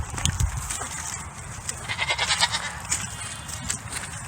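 Several goats bleat on a homestead, the older goats kept together in a back pen; repeated calls rise over steady low background rumble, fairly close, with no talk.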